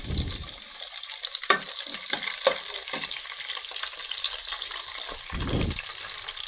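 Fish curry with green chillies, curry leaves and coriander being stirred in a pan, a steady sizzle running throughout with several scraping strokes of the spoon and a few louder low clunks.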